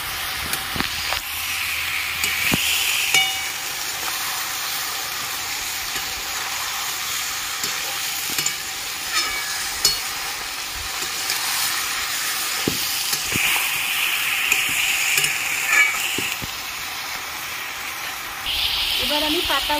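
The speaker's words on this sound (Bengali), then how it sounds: "একটু নেড়ে দেবো।" A pan on the stove for poppy-paste bottle gourd leaf chorchori, giving a steady soft sizzle and hiss with occasional clinks as it is stirred.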